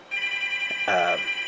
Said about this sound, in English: Excuse the phone.